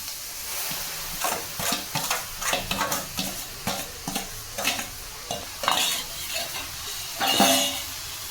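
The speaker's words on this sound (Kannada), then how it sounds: "ಈರುಳ್ಳಿ ಫ್ರೈ ಆಗೈತೆ ಎಲೆಕೋಸು ಹಾಕೋತೀನಿ" Cabbage tossed into fried onions is stirred in a pan, a spatula scraping and clattering in irregular bursts over a soft underlying sizzle, close and moderately quiet, without speech.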